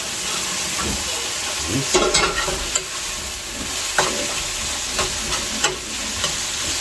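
Chicken pieces fry in a hot pan under a constant loud sizzle while a utensil stirs and scrapes them in repeated sharp strokes, with no talking.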